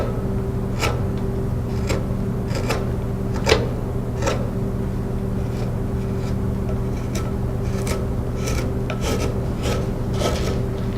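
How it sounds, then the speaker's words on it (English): A flat gouge scrapes across cedar while a goldeneye duck decoy is carved by hand, a close series of short rasping strokes repeating at an irregular rhythm over a constant low background hum. "Just going to take a flat gouge."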